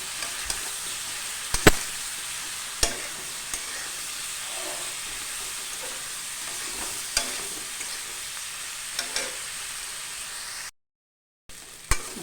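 Bitter gourd frying in a pan with salt and turmeric, a steady soft sizzle with a few sharp clinks of a stirring utensil scattered through, no talk.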